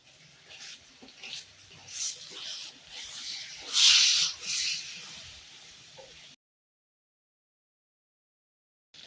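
Large brinjal pieces sizzle and scrape in a hot pan while being sautéed for a Tamil thatta payir kulambu. A steady hiss with stirring swells mid-way, then cuts off abruptly into silence.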